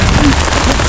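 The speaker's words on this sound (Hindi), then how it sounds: "बहुत तेज ओले गिर रहे हैं।" Heavy hail pelting down outdoors in an open field, a dense, steady broadband patter with no gaps.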